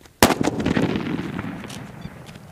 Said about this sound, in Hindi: अब टेस्ट करते हैं इस फॉइल बम का और देखते हैं ये कैसा चलता है।